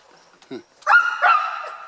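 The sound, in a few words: sled dogs barking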